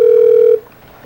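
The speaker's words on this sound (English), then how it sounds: "usually just like listening to the phone ring" An outgoing telephone call rings, a single steady electronic tone lasting about half a second, loud and clear before cutting off into quiet line hiss.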